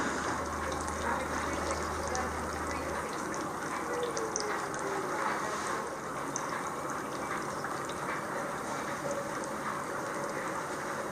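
Steady broad hiss of water rushing through a sluice lock in the Dutch Biesbosch, continuous and moderately loud, with a low hum fading out in the first few seconds.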